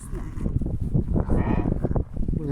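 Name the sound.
sheep bleating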